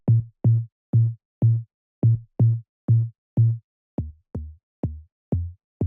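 A soft sine-style pluck bass layer plays alone, a bouncy pattern of short, deep, rounded notes with clean gaps between them, set in a deep house production.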